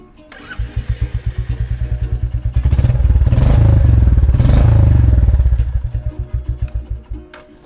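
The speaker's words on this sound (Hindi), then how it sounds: "बाइक की हमने काफ़ी बात कर ली, अब मुझे थोड़ी मन है कि इसका एक बार आवाज़ मैं सुनूं और आपको भी सुनाऊं।" A Royal Enfield Meteor 350 from 2024 idles with a steady thumping single-cylinder beat, swells into a louder rev for a couple of seconds, then drops back to its even pulsing idle, close and without talk.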